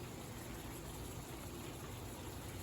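Water poured into a pot of creamy keto soup with sausage and vegetables, a steady broadband splashing trickle that runs continuously and fairly close throughout.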